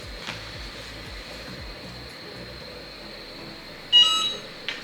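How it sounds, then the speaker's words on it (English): Cricut Autopress heat press giving a short, clear electronic ready beep near the end, following a faint steady hum and a few soft clicks. "And so you hear that beep, it's telling me it's ready to go."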